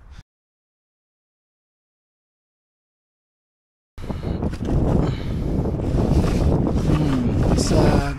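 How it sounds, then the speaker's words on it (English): A light outdoor breeze rumbles and buffets against the microphone on a grassy field, a steady, fairly loud whoosh that begins after a few seconds of silence, with a voice talking under it. "there's a slight breeze to the south-southwest there"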